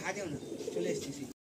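Teddy pigeons in a loft coo in soft, low, throaty rolls alongside a nearby talking voice, and the sound cuts off abruptly just before the end.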